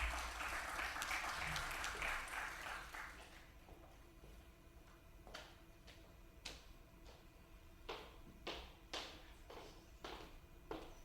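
Audience applause at a university talk on digital marketing trends welcoming Mr. Sandoval: a dense, loud burst of clapping for about four seconds that quickly fades, followed by scattered, sparse individual claps and taps in a quieter room.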